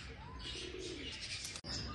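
A pigeon perched on a wall gives faint, brief cooing calls against background noise, with a short sharp knock near the end.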